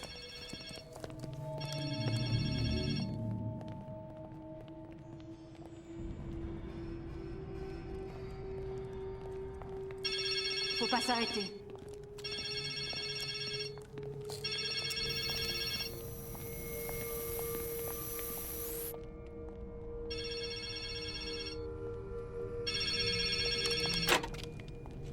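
Telephone ringing in the video game Resident Evil 2, repeated bursts of an old-style bell ring at regular intervals over a tense musical drone, with a brief spoken line.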